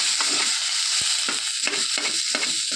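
Four small tomatoes fry in a pan for tomato chutney, a bright close sizzle broken by repeated scraping stirs at an irregular pace, no speech.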